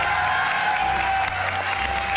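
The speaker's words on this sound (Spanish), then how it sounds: "Un aplauso, por favor" An audience applauds in a television karaoke show studio, a steady blanket of clapping with a little cheering mixed in, holding at even loudness throughout.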